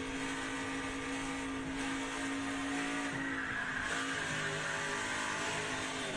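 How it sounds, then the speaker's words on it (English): A NASCAR race truck engine roaring at speed coming out of turn four, its tires squealing as the rear breaks loose, a continuous loud close recording with no voices. "You heard the tires start squealing there when he lost control of the back of that truck"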